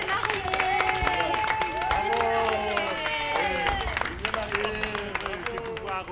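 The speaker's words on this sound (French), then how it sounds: "Et on applaudit. Bravo" Audience applause with scattered clapping and crowd noise, steady and close, mixed with overlapping voices and chatter throughout.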